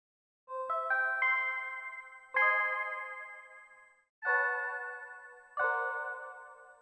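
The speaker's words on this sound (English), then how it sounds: "that's that bell sound that we've chosen" A bell patch played on a MIDI keyboard sounds four separate chimed strikes, each a bright tonal ding that rings out and slowly decays before the next, some struck as overlapping notes, clear and alone with no talk.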